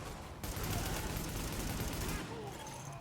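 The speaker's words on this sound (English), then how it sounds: "The escort party's taking heavy fire from the roof." Sustained automatic gunfire from a rooftop gunner in the video game The Division, a dense, loud burst of rattling shots lasting a couple of seconds before cutting off, mixed with game sound effects.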